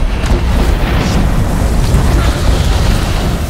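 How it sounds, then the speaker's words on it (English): A meteor crashes down and explodes in Valheim during a fight with Fader, heard as a loud, dense, continuous roaring rumble that fills the whole moment without letup. "There's a meteor coming down."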